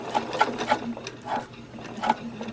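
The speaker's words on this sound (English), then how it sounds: "I'm going to reverse to stitch back over that same spot, and then stitch again" A sewing machine reverse stitches back over the same spot on a baby pacifier clip, short bursts of rapid needle stitching in a few separate runs, close and moderately loud.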